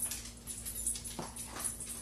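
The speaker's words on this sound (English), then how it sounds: "now my dog's over there making noise" A dog whimpers and yips in a room, a short rising cry near the middle over a steady electrical hum and faint background noise, with no one talking.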